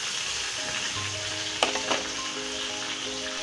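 Chili paste and onions sizzle and crackle steadily in hot oil while being stir-fried, with a couple of brief scraping knocks of the spatula against the pan partway through.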